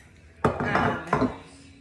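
Two metal 8x8 baking pans knock and clatter as they are handled in a kitchen for brownies, giving two sharp, close clanks with ringing decay and no talk.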